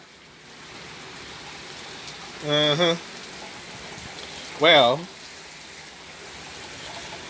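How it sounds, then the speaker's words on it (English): Heavy springtime rain falls steadily as a constant hiss throughout, with a voice briefly speaking twice over it. "Raining hard in the springtime always"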